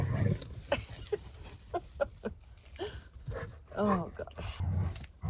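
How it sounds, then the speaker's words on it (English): Dogs approach indoors while someone talks over them, with scattered light clicks, shuffles and faint vocal noises from the animals around her voice. "here come dogs"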